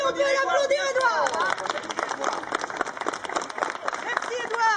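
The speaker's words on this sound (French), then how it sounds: "Édouard, viens ici, on peut l'applaudir, Édouard!" An audience at a night event in Mouscron applauding a boy named Édouard, a dense burst of clapping after a short spoken call, moderately loud and steady with crowd murmur underneath.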